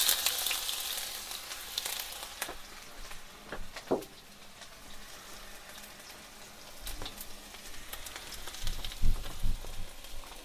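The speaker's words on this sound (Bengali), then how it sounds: "তেল গরম হয়ে গেছে, আমি দিয়ে দিব চপ অনিয়ন" Chopped onion sizzling in hot oil, a steady soft crackle with scattered louder pops and spits rising and falling, no voices.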